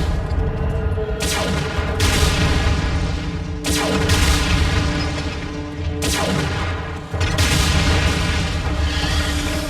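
Heavy suppressing gunfire in a Transformers war video game roars in loud, sustained bursts, with booming surges every couple of seconds over a continuous rumble.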